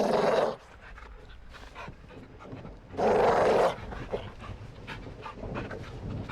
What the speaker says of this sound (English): The dog alerts a guard who will come into the room.